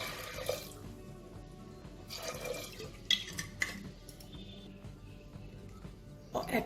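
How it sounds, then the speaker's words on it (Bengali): Water from a tap runs and splashes into a pot of green mung dal in short bursts, faint and intermittent, with quiet clinks between pours. "এবার এতে আমি পরিমাণ মতো জল দেব।"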